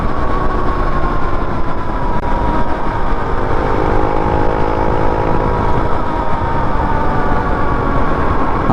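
A Rusi TC motorcycle cruises at about 100 kph, its engine droning loudly and steadily with heavy wind rush throughout and no talking.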